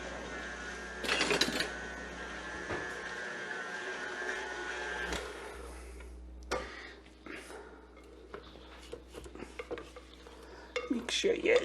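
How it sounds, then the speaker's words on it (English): A spatula scrapes down a bowl of cream cheese cake batter, with irregular close scraping, knocks and clinks against the bowl, short bursts and brief quiet gaps between strokes. "I'm just going to grab a spatula. We'll give that a scrape down."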